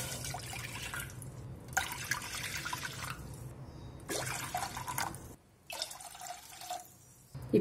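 Water poured from a tumbler into a small pressure cooker, four separate pours in a steady rhythm, close and fairly loud splashing with brief quiet gaps between them and no talk.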